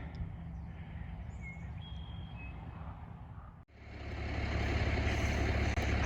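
A single-axle truck pulls a 53-foot trailer that is a little stuck. A low engine rumble and faint beeps give way to a sudden, louder, sustained roar of the engine working hard.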